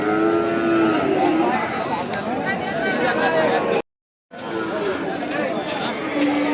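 A Friesian bull moos loudly and repeatedly up close at a cattle market, with a crowd chattering in the background and a brief dropout in the middle.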